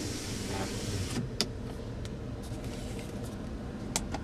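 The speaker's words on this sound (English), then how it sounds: "This right here is your power sliding rear glass." Power sliding rear glass on a 2015 Ford F-150 Lariat crew cab running, a steady electric motor whir inside the truck cab with a couple of faint clicks and a small knock, no talking.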